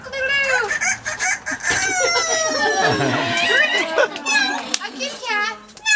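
A performing parrot at a bird show imitates a rooster's crow, with a person's voice also voicing the crow, giving repeated warbling, whooping calls that rise and fall. Voices talk over them and the calls come close and loud.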